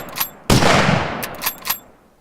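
A lever-action rifle fires in the game Iconoclast: one loud, sharp report rings out and decays, framed by quicker metallic clicks and clacks of the action being worked before and after.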